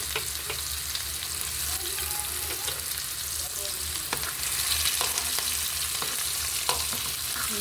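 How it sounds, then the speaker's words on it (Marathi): Chili and onion dropped into a hot pan and frying, a dense, continuous sizzle close up with occasional stirring scrapes and clinks, with no one speaking over it. "आपण टाकूया आता मिरची आणि कांदा"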